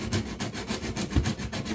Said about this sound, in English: I gotta sand up the burrs